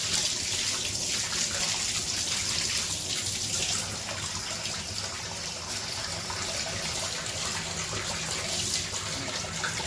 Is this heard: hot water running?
yes